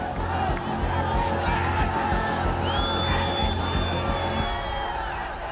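A large crowd storms Nepal's undefended parliament, a dense continuous roar of voices with shouts and cheers throughout and a high whistle-like tone rising midway.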